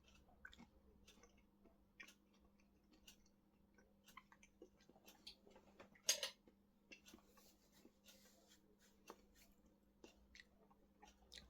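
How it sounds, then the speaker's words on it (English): Someone chewing crispy-coated Birds Eye chicken: quiet, irregular crunches and mouth sounds close to the mic, with one sharper bite about midway. "Very hard to chew, that one was."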